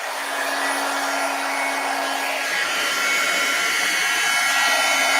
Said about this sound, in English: Let's go ahead and emboss that now.